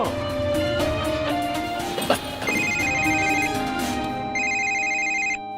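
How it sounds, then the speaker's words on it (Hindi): A phone ringtone plays loudly and continuously, a repeating electronic melody with bright tonal notes, ending abruptly. "मिसर जी का फोन, पता नहीं क्या खबर देंगे।"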